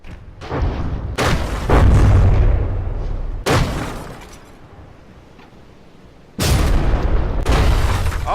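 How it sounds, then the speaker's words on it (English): Heavy booming blasts ring out as secondary guns are destroyed on a warship in the From The Depths game, three loud separate explosions with long rumbling tails, one fading to a quieter stretch before the next hits. "It managed to blow up both secondary guns in the rear there."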